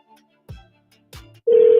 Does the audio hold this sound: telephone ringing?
yes